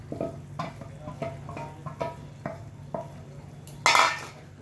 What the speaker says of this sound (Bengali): চিংড়ি মাছগুলোকে দিয়ে আমি একটু নাড়াচাড়া করে নেব।